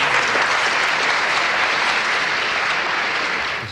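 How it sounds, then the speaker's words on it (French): Sustained, dense applause from an audience filling a university lecture hall, loud and steady throughout with no voices on top, tapering slightly at the very end. "cette constatation applaudie comme vous l'entendez"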